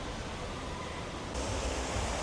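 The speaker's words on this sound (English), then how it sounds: "We still have the water turned on, and this one's just gushing." Water jets from a theme park fountain in Orlando's Toon Lagoon at Islands of Adventure gush in a steady, broad rushing roar that swells louder midway, with no voices.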